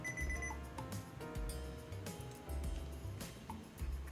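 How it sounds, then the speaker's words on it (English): Rapid electronic alarm beeping repeats over a busy background, steady and insistent throughout. "Beep, beep, beep."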